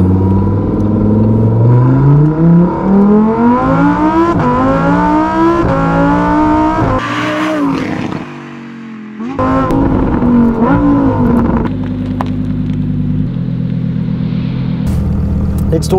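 A Novitec-tuned Lamborghini Huracan EVO with a 5.2-litre naturally aspirated V10 revs loud and close, climbing through rising, falling sweeps, dipping briefly, then roaring again before settling to a steady rumble.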